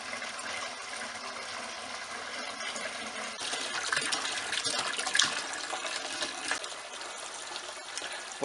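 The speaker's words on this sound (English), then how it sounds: "What I'm doing is I pour about half of it into the pot on the floor" Liquid for making rum pours steadily into a large pot on a kitchen floor for several seconds, a continuous splashing gush that swells slightly midway, with no voices.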